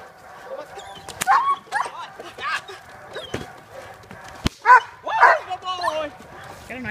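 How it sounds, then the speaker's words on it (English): A dog at a bite-training session gives a series of short barks, yips and whimpers, close by and irregular, mixed with people talking. "See if you can get him to bark."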